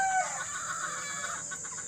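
White chocolate sweater chickens in a backyard flock give a short burst of clucking calls at close range, with soft rustling and bird chatter continuing underneath.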